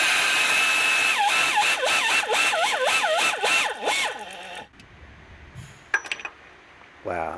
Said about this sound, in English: All right, let's take this pulley off.